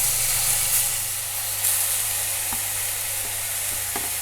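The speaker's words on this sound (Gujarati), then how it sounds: "દૂધીને ઘીમાં શેકી લઈશું" Grated bottle gourd sizzles and hisses steadily as it roasts in ghee in a pan, a close continuous frying sound with a few faint stirring taps and no talk.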